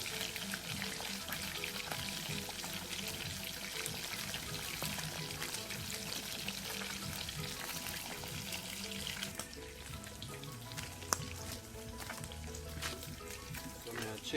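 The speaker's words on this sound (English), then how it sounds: "Fish them are going fry up right now." Sprat fish frying in hot oil outdoors for Jamaican escovitch, a steady dense sizzle and crackle that runs throughout with some clattering, and a voice talking over it.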